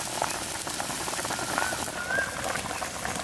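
Continuous soft bubbling and hiss of water boiling in a pot with potatoes, steady and moderately quiet throughout.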